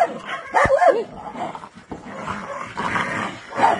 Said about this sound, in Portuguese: Os cachorros estão felizes aí, estão brincando.